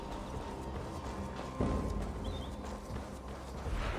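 Horse hooves clip-clop at a walking pace in an Assassin's Creed Valhalla game world, steady and fairly close over a low ambient bed, with no talking.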